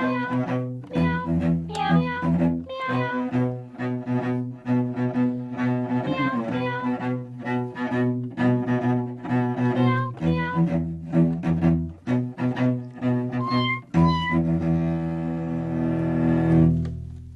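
Synthesized cat meows played on a keyboard, a rapid run of pitched, tonal notes with electronic character, continuous and fairly loud.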